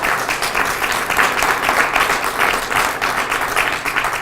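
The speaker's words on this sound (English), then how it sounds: "Just give a big round of applause for all the folks." Applause from an audience at a City of Albuquerque news conference honoring Varela's Senior Center staff, a steady dense crowd clapping that holds at an even level throughout without any talking.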